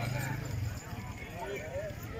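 A horse gallops with rapid clip-clopping hooves at a tent pegging competition in Kantrila, Jhelum, heard under an announcer talking over a loudspeaker amid outdoor crowd noise.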